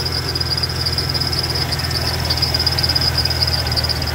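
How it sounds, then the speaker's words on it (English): A 1992 Ford F150 pickup idles steadily with a thin, persistent high-pitched belt squeak riding constantly above the low engine rumble, close and unbroken, with no voices. "Once she gets warmed up, that belt goes away."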